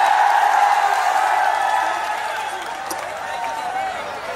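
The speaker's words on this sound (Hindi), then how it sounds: "माता जी को जोरदार तालियों स्वागत करें" A huge stadium crowd at a fan meet-up for a Bigg Boss OTT 2 winner roars with steady, dense applause and cheering, loud and continuous, easing slightly partway through.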